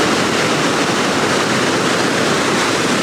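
Water from the Rogue River gushes out of a cave at the natural bridge, a loud, close, continuous roar with no breaks or voices.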